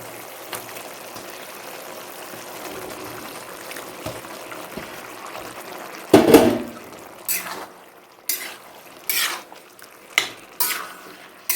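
Beef tripe fry being stirred in a pan, with quiet kitchen background for the first six seconds, then a loud utensil scrape followed by a series of distinct, evenly spaced scraping stirs, close by with no talking.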